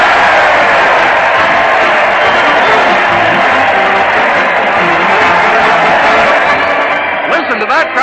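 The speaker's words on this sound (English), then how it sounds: "Listen to that crowd. They're cheering Fred Allen as he leads his weekly parade to the old Town Hall." A large audience at an old-time radio show in a town hall roars with cheers and shouts, a dense, continuous wash of crowd noise that stays loud throughout and thins slightly near the end.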